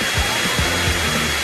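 A hair dryer blows close and loud in a steady, continuous whoosh with a constant motor hum, alone and unbroken.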